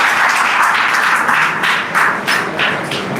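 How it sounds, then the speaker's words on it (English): Loud, close applause at a university Engineers Day debate award, with individual claps standing out in an uneven, choppy rhythm that rises and dips in waves. "Please give a big round of applause."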